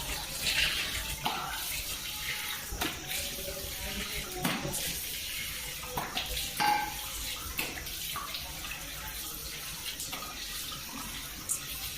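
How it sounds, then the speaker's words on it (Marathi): Cold running water splashes steadily while a face is washed, with sharper bursts of splashing at irregular moments and no voices. "नंतर मग डायरेक्टली थंड पाण्याने वॉश करून घ्यायचं."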